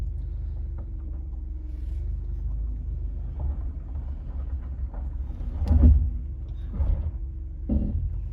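A 1998 Toyota Camry LE with 250k miles idles with a steady low rumble, close and moderately loud, with a few soft knocks and bumps near the end.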